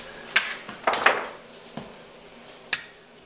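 Ski wax being scraped off skis on an indoor waxing bench, giving a few sharp, separate scrapes and clicks with short pauses between them, close up and fairly loud.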